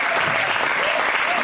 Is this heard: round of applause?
yes